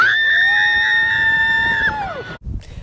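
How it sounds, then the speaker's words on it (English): A long, loud, sustained scream from several riders, holding pitch before dropping off, then a brief rush of noise. "The ones that make you scream to the top of your lungs?"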